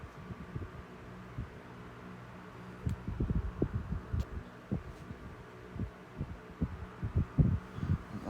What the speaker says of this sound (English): here's medium. I love that sound it makes, and the wind going through the grills.